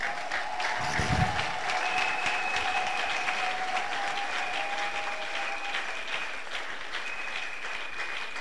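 A church congregation claps and cheers for the Holy Spirit, steady dense applause from a large crowd, loud and continuous throughout, with a sustained tone ringing above it.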